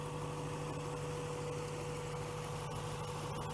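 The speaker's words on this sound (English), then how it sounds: "after you let the vehicle run for a little while" Car engine idling steadily during a test drive inspection, a constant close low hum and rumble with no change in pace and no voices.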